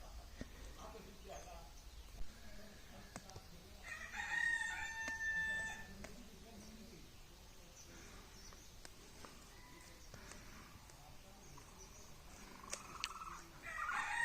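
Chickens on a village farm, a rooster crowing loudly in a long call and another later, with scattered clucks and background noise throughout, a person speaking at times.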